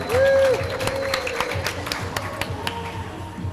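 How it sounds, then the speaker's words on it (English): Scattered crowd clapping in the stands during a racquetball tournament singles semifinal timeout, sparse and uneven, with a whistle-like tone at the start and background crowd noise. "A round of applause for Cowgirl and Cowboy"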